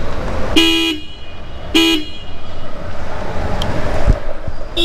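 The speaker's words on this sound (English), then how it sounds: "And that's what the horn sounds like." A Honda CB350 motorcycle horn gives two loud, clear honks about a second apart, each roughly a third of a second long, over steady outdoor background noise.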